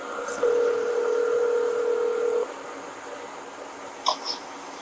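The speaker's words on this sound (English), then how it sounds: "let me call Jessica again" A telephone call is placed: one long, steady tone sounds for about two seconds, then quiet line hiss, then a couple of short electronic beeps.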